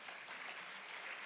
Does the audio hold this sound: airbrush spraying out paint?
no